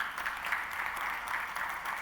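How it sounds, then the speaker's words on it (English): Audience applause at a business conference fills the room, a dense, even wash of clapping sustained for about two seconds without a break. "I think that deserves a round of applause."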